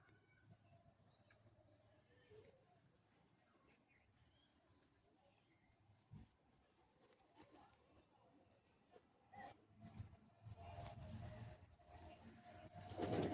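Soft, low coos from Madras pigeons in a loft repeat quietly in the background, with faint shuffling and rustling that grows louder toward the end.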